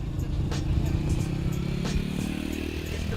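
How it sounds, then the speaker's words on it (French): A motorcycle ridden by a learner rider, heard as a steady low engine drone throughout with a few faint clattering ticks, fairly loud and continuous. "quelqu'un qui apprend à rouler en moto."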